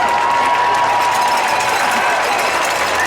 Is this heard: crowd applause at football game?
yes